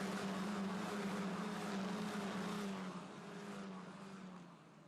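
Euro 4 single-seater race cars racing at Monza toward the Ascari chicane, a loud high-revving engine howl that holds steady, then drops as the cars brake and ease away into the distance.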